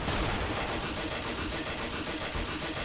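Bofors gun emplacements fire continuously in Company of Heroes with the Blitzkrieg Mod, a loud, dense wall of rapid automatic gunfire and booming shots that never lets up.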